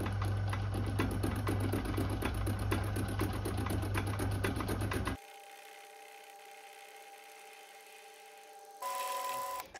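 A metal lathe takes a final light cutting pass on a steam engine chest for a Stuart 10V build, whirring loud and steady before dropping to a quieter hum, with a brief higher-pitched burst near the end.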